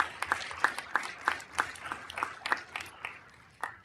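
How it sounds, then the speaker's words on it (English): Scattered hand claps from a small audience at a city council meeting, a sparse and uneven patter of individual claps lasting several seconds, fairly quiet and slightly distant in a large room. "let's give her a round of applause"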